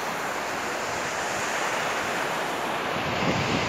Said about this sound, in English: But we call it ocean, and those sounds that are resonating, we call them, we call them resonating from the waves, right?